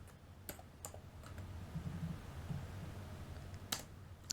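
Keystrokes on a computer keyboard while someone types a word into a beginner Python rock-paper-scissors program, heard as a handful of soft, scattered clicks over a quiet background hum with no talking.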